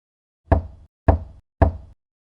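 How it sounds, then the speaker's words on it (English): Three soft knocks on a door somewhere down a hallway, evenly spaced about half a second apart, each a short muffled thud in an otherwise silent room. "I woke up to a knocking sound. 3 knocks. Soft but unmistakable."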